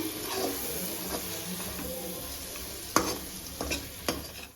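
Tomato, green chilli, salt, chilli powder and turmeric masala frying in a pan as it is stirred, a continuous close sizzle with a few sharp utensil clacks toward the end.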